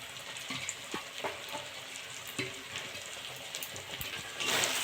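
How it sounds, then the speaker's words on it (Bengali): Chhana, fresh cottage cheese, sizzles softly in a pan while being stirred, with light crackling frying noise and intermittent scraping clicks of the spoon, fairly quiet and close. "নেড়ে চেড়ে নেবো ভালো করে"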